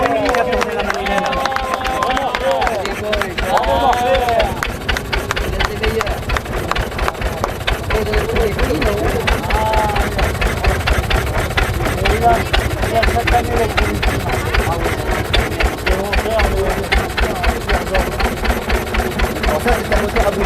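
An early 1910s hot-bulb engine, hand-cranked to start, runs at a farm heritage festival with a steady rhythmic chugging beat. It sounds close and loud throughout, under people talking and crowd noise.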